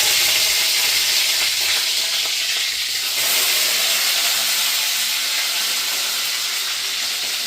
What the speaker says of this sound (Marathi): आता जिरे चांगले तडकले